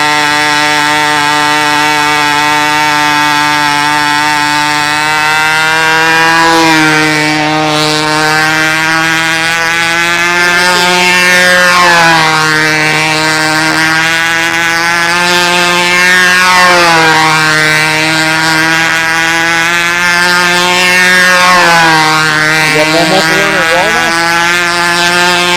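Supermarine Seafire piston engine running with an unrestricted exhaust, a loud, sustained droning roar whose pitch rises and falls in slow sweeps as the aircraft passes, with no voices.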